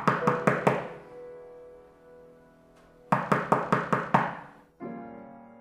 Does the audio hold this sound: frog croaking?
no